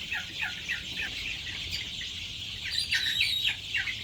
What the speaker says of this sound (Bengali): এখানে 1 মাস বয়সের ফার্মি মুরগি আছে।